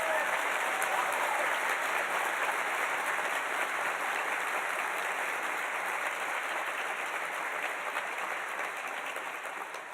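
Audience at a physical therapy white coat ceremony claps steadily for the full stretch, a dense even wash of applause from a large room that tapers slightly at the end.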